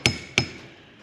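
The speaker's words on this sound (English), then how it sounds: "just give it some love taps" Two light, sharp taps from a small trim hammer, spaced about a third of a second apart and each ringing briefly, close and clear.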